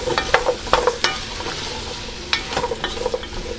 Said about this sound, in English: So I'm going to saute these vegetables.